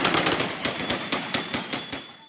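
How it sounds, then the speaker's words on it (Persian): Rapid gunfire from a street protest crackles through a news report recording, a fast, uneven series of sharp shots with a reverberant, slightly distant quality and no speech over it. "شلیک گلوله"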